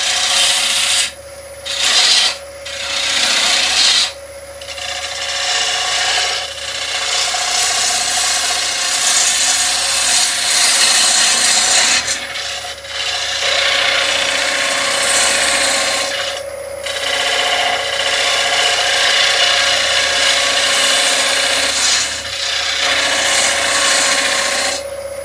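A wood lathe turns a wooden platter while a tool cuts its base, giving a steady loud scraping, rubbing whir with a constant hum and several brief pauses as the tool lifts off.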